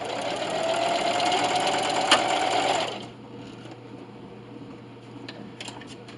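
A sewing machine backstitches the seam of a self-binding receiving blanket, running in a steady close whir for about three seconds before stopping, leaving quiet room noise.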